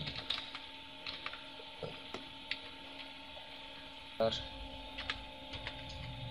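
Keys tapped on a computer keyboard while entering text into a table in MS Word 2003, giving scattered, soft clicks at an uneven pace under someone speaking.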